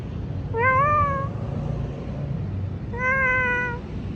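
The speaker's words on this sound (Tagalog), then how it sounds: "Ay, may pusa oh." Two drawn-out cat meows about two seconds apart, clear and close, over a low rumbling background, at the Pasig River esplanade food stalls in Manila.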